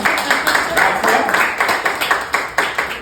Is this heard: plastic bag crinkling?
no